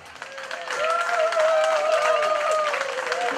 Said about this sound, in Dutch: een enorm applaus.